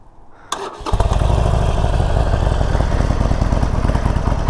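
Harley-Davidson five-speed motorcycle, already warmed up, starts and then settles into a loud, close idle with a steady lumpy rumble. No one speaks.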